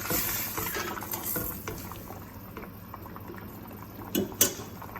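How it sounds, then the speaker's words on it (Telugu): Steady bubbling and simmering of a thick egg curry in a pot, low and continuous, with a couple of sharp clinks near the end. "పులుసు అంతా బాగా కాగిపోయింది."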